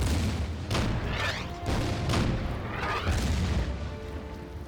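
Repeated booms of artillery fire in the Order of Battle: Blitzkrieg strategy game, heavy rumbling blasts arriving in quick succession with a low, continuous roar between them.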